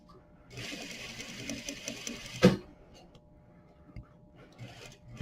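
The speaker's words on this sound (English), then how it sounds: "I'm going to stitch to the end and back tack" A sewing machine stitching a horsehair braid hem on muslin, a fast, steady mechanical whirr of about two seconds, close and fairly quiet, followed by a sharp clack and a few faint handling sounds.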